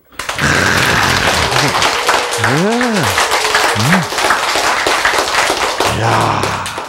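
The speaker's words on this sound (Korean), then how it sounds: "박수." Audience applause at a lecture on natural healing, a sustained burst of clapping lasting several seconds, with a voice briefly speaking over it.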